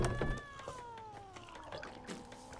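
A cat meows in a long, drawn-out call that slides slowly downward in pitch, fairly close and clear, with faint rustling and small knocks around it.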